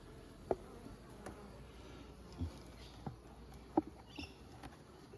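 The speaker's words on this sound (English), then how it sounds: "Frame nicely covered with bees." Honeybees covering a frame in a ten-frame hive, a faint, steady low hum with a few soft taps and knocks from handling the frame.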